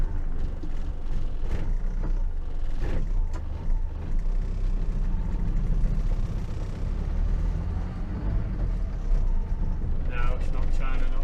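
A Morris Minor car drives along with a steady low engine and road rumble throughout, a person speaking over the running car.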